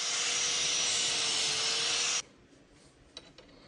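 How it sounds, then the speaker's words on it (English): An abrasive power tool grinds mill scale off steel before welding, a loud harsh hissing whir that stops abruptly after about two seconds, followed by a few faint knocks. "I'll start by cleaning off all of the mill scale in the areas in which I'm going to be welding."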